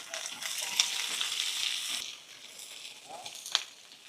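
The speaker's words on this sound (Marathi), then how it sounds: "बारीक चिरलेले कांदे दोन ते घालून घेऊ लसणाच्या पाकळ्या घेतल्या दहा ते बारा दहा ते बारा हिरव्या मिरच्या घेतल्या त्या घालून घेऊ व्यवस्थित परतून घेऊ" Chopped onions, garlic cloves and green chillies are sautéed with roasted coconut and peanuts for a stuffed brinjal masala, making a bright, close sizzle that fades to a softer hiss halfway through, with a couple of sharp stirring clicks.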